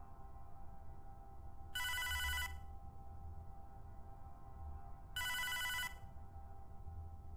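Telephone ringing in the video game Hotline Miami: two separate bursts of a bright electronic bell ring, each lasting under a second, heard against a low steady hum with no talk.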